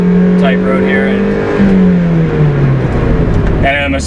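A 1999 Mazda Miata NB engine pulls hard toward redline on a tight road, a steady loud climbing drone with rising pitch and a gear shift midway, while people talk over it inside the car.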